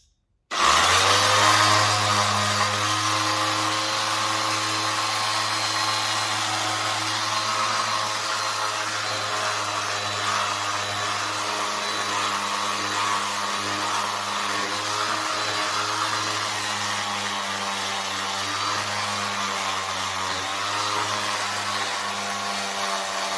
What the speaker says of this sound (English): So you've got to be careful the sander doesn't jump off there.